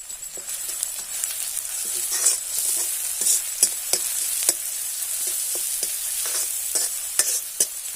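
Garlic and green chillies frying for jhunka, a Maharashtrian gram-flour dish, with a steady hissing sizzle and repeated sharp scrapes and taps of a stirring spoon against the pan throughout.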